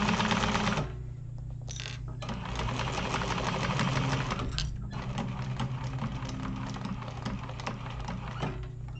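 A sewing machine stitches through a thick wallet seam in a steady, close, continuous run with a rapid mechanical rhythm and a low motor hum throughout.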